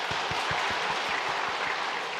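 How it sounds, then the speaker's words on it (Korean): Congregation clapping together during a Sunday church worship service, a dense steady wash of many hands with a faint regular low thump underneath, continuous and fairly loud throughout. "다 함께 박수하겠습니다"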